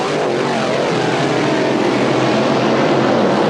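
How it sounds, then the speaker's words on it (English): A Grand Prix racing powerboat at the Valleyfield regatta, capable of about 145 to 150 mph on the straightaway, roars past as a loud, steady, broadband engine drone that stays strong throughout with no voices. "The Grand Prix boat will probably do 145 to 150 miles an hour on the straightaway."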